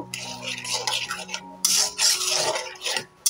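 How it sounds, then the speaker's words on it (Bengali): Spice masala with tomatoes and salt being stirred in a pan, a spoon scraping and rubbing against the metal in bursts with brief clinks, close and fairly loud, with a faint sizzle underneath. "এখন ভালো করে মশলাটা আমি কষিয়ে নেব"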